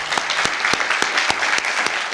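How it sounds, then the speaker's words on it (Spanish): An audience applauds a political candidate at a public forum on transparency and democracy, steady clapping with sharp individual claps standing out, moderately loud and continuous. "se merece un aplauso el candidato"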